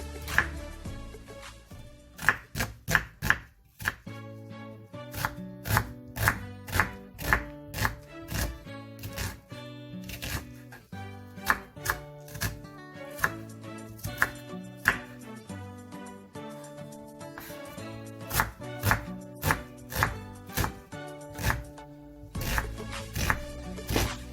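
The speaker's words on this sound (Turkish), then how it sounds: "bir tane kuru soğanımızı küp küp şekilde doğrayalım" Steady knife chopping of an onion into cubes on a board, dozens of quick crisp cuts in bursts with brief pauses between, close and clear with no talking.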